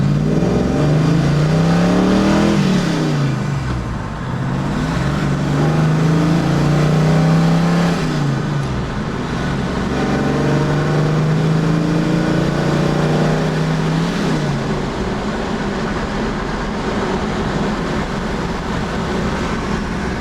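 A 1978 Chevrolet Camaro engine pulls hard, its pitch rising and dropping back three times as it shifts up through the gears, loud and steady with no talking.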